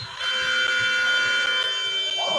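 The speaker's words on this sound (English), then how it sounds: "As the shot clock buzzer once again overstaying its welcome as Andrew Genie calls his first timeout" A loud, sustained electronic shot clock buzzer blares continuously at a women's college basketball game in a gym, holding steady with faint crowd noise beneath it.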